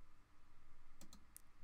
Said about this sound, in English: I'm gonna click on write for me.